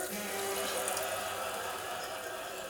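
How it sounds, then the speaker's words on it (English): Water pours steadily into a pot holding country style steak, a constant splashing stream heard up close for a few seconds without speech. "And then I'm going to add some water until I cover this"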